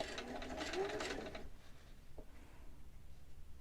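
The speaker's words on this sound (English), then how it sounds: "And trying to sew on the original line." A sewing machine stitching a replacement zipper runs with a fast whirring hum for about a second and a half, then stops, leaving quiet handling noises.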